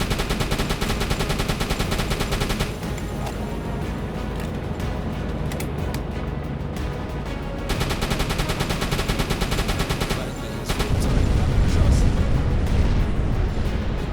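Rapid anti-aircraft gunfire from a U-boat's deck gun aimed at an attacking plane in the submarine game Uboat, dense repeated bursts with short gaps, booming and close, ending in a heavier rumbling blast.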